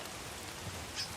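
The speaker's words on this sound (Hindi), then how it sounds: "क्यों हमेशा बारिश होती रहती है" Rain falls steadily in the zombie video game Days Gone, a soft, even hiss of drops on surfaces, quiet and continuous with no talking.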